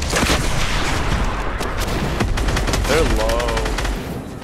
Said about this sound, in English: I still hear more shooting